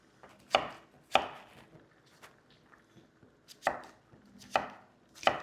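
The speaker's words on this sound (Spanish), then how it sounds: "Ahora voy a picar la calabacita" A knife chops zucchini on a cutting board in a kitchen, with sharp, close knocks coming singly or in pairs at uneven intervals and quiet pauses between them.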